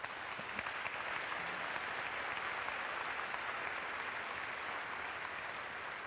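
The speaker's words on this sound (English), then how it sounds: "Please join me in giving them a round of applause." An audience at an Airbnb Open event claps in sustained, dense applause that stays even and unbroken throughout, moderately loud and without distinct voices.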